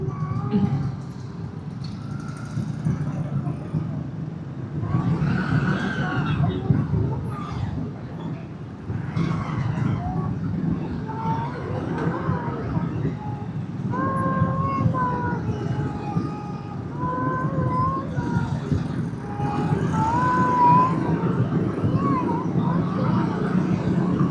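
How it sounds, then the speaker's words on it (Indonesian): A congested road in a traffic jam, heard from a motorbike, with a steady engine and traffic rumble throughout, distant horns or siren tones rising above it, and voices talking now and then. "Wah, macet guys, di sini macet seperti biasa."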